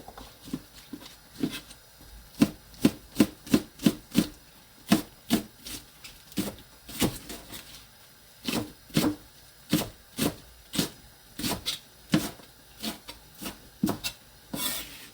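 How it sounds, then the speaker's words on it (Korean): Half an onion and a medium green onion are sliced with a knife on a cutting board, giving a close, steady series of crisp thuds in an uneven rhythm with occasional short pauses. "양파도 반 개 정도 대파 중간 크기 하나 이렇게 썰어서 준비해 둘게요"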